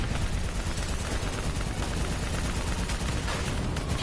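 Sustained gunfire in Call of Duty: Black Ops 3, aimed at a VTOL aircraft during a firefight, forms a loud, dense, unbroken wall of rapid shots and explosive noise that runs through all four seconds with no voices.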